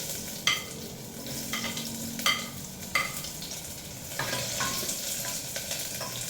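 Onion and ginger sautéing in a hot pan, a steady sizzle of frying broken by several sharp scrapes and clacks of a spatula stirring against the pan, with no talking.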